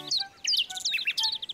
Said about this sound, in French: Ouh, les oiseaux! Le restaurant des oiseaux est ouvert!